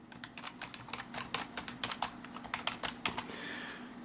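Fingers type rapidly on a Roccat Magma keyboard, a steady stream of soft, close key clicks with irregular rhythm and a low hum beneath.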